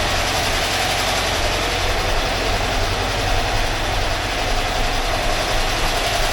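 A 1982 VW Vanagon Westfalia air-cooled engine runs steadily and loudly up close, a continuous rumbling drone with no pauses or voices.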